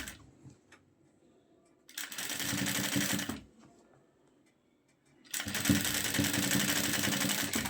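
A sewing machine stitches lace onto the hem of a shalwar in two loud, steady runs, each lasting about a second and a half, separated by a quiet pause.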